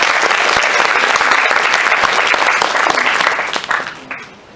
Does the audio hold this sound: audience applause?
yes